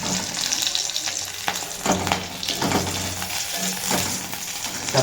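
Green chilies fry in hot tempering oil with a steady, close sizzle, and a few sharper crackles and spatters burst through at intervals. No one talks.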